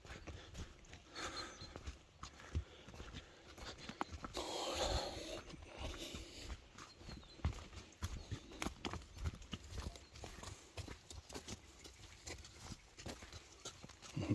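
Irregular hoof clops and shuffling steps on the ground, fairly close, with scattered thuds and faint background noise.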